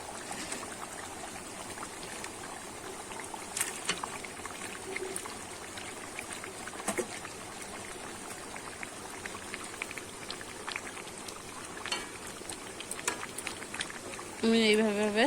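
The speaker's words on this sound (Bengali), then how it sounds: "ঝোলটা কিন্তু আমার ভালো করে ফুটে উঠেছে" Fish curry broth with potatoes bubbles in a pot, a soft continuous simmer dotted with small pops and crackles, fairly quiet and close, with a brief louder clatter at the very end.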